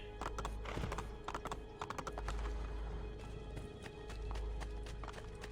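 A horse's hooves clip-clop in a quick, clattering rhythm in the Assassin's Creed 2 video game, set over steady game ambience, with the hoofbeats thinning out after the first couple of seconds.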